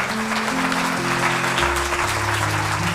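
A congregation at a Thursday night worship meeting claps loudly for Jesus, dense sustained applause filling the room while a low keyboard or organ drone plays steadily beneath it.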